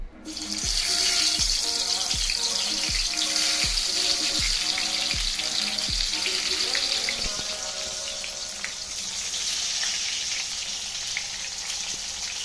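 Stuffed brinjals for gutti vankaya curry frying in hot oil, a loud continuous hiss with a run of soft, regular thumps as pieces go into the pan one after another, then an even sizzle.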